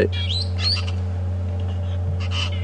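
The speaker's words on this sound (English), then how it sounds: "You can hear the squeak of the parrots." Parrots give a few short squawks and chirps high overhead, fading as they pass, over a steady low engine hum from a safari vehicle on an African game drive.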